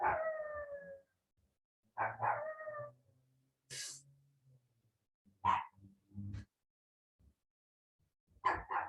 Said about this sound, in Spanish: Ese es su intento de aullido.